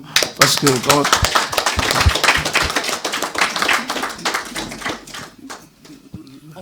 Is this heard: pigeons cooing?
no